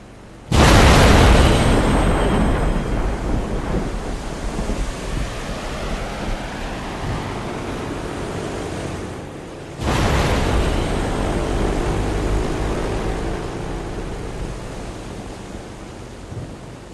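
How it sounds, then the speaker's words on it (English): A C-130 transport makes a jet-assisted takeoff at a Blue Angels air show: a sudden, loud, roaring blast that holds steady, dips slightly, then surges again with a second burst of thunderous noise. "their C-130 transport crew demonstrates the jet-assisted takeoff"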